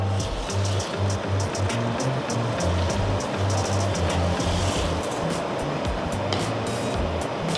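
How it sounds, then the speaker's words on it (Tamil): Water boiling hard in a big pot for wedding-style sambar rice, with one kilo of rice and half a kilo of toor dal, gives a steady, loud bubbling roar with low rumbling churn throughout. "இப்போ இதில் வந்து தண்ணி நல்லா கொதிக்குது"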